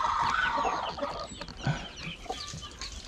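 Newly hatched chicks chirp and cluck in a busy, overlapping chorus close by, with a scatter of brighter calls and no talking.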